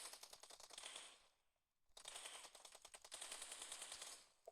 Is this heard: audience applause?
no